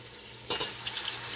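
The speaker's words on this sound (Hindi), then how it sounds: "हम इसमें थोड़ा पानी डाल देते हैं ताकि प्याज गल जाए और मसाला अच्छे से पक जाए।" Water is poured into a pot of onion-based masala cooking for beef paya, a sudden hissing sizzle and splash that starts midway and continues briefly, close and moderately loud.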